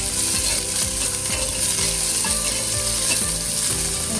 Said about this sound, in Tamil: அதோட வெட்டி வச்சுருக்க வெங்காயத்தையும் சேர்த்து வெங்காயம் நல்லா வதங்கணும்.